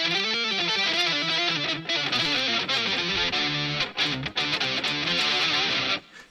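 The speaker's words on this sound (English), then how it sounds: "I use stomp mode, so if I want distortion," Distorted electric guitar through a distortion effect pedal plays gritty, sustained notes and bends, with a thick, saturated tone, then cuts off abruptly near the end.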